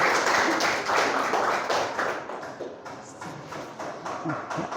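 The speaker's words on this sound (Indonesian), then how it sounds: "Beri tepuk tangan semuanya untuk ketua kelas kita" A class claps for its class leader, a loose, uneven spatter of hands that is loud at first and then thins and fades toward the end.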